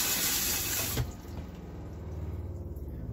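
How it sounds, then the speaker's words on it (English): RV water pump running after a Thetford toilet replacement in a 2018 Keystone Outback, a faint steady low hum with soft rhythmic pulsing, after a burst of rushing water cuts off. "I'm not sure if you can hear the water pump running or not"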